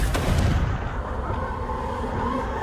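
Fire blast spell in Hogwarts Legacy, a sharp burst at the start followed by a rumbling, fading tail and low ambient hum, fairly quiet and with no talking.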